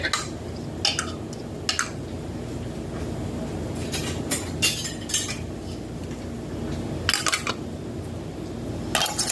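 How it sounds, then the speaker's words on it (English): Metal lids and old screw rings clink and tap against glass canning jars of tomatoes, with sharp scattered clicks and clatters over a low background hum and no talking. "And then I put my lids on, and I'm using new lids, but I am using old rings."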